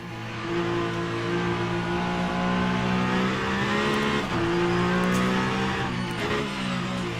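A race car engine in Le Mans Ultimate, held at a steady, loud drone through the lower gears, with a brief dip and rise in pitch partway through as the car changes speed.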